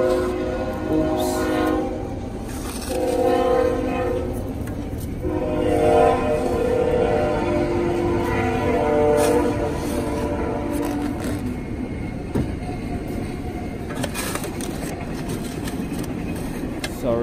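A loud BNSF freight train rumbles past up close, its horn blaring in long sustained blasts over the steady roar and clatter of the rail cars.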